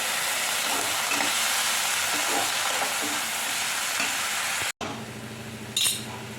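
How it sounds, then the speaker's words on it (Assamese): A fried mixture sizzles steadily in a pan, then water splashes in and a sharper burst of hissing steam rises near the end. "এতিয়া মই ইয়াতে এচাটি পানী মাৰি দিছোঁ।"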